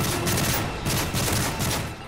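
Rapid video game gunfire rattles in dense bursts, loud and close, with several sharp volleys in quick succession and a brief lull near the end.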